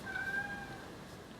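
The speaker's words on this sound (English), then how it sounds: "If you can hear the cat meowing in the background" A brief, faint cat meow in the background, a thin drawn-out tone over room noise.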